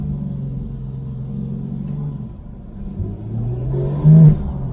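A 2016 Porsche 911 GT3 RS engine rumbles low and then gives a short, sharp rev near the end, with the throttle body audible up close.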